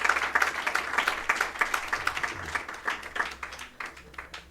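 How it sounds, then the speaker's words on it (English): Applause from a gathered crowd at a memorial celebration of life, dense overlapping clapping sustained steadily throughout with uneven swells, no voices standing out. "Let's applaud his children and family."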